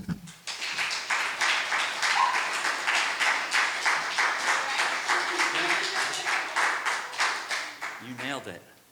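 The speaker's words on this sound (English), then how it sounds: "Please give a very, very warm round of applause to Keith O'Shaughnessy." An audience at a poetry open mic breaks into warm, sustained applause for a performer, even clapping that rises quickly and holds steady before fading as a voice begins speaking at the end.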